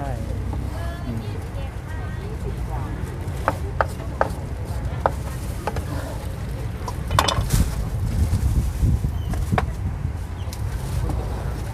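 Rapid knife chopping on a board, scattered sharp taps near the mic, with background kitchen noise and people talking in a busy Thai spicy salad shop.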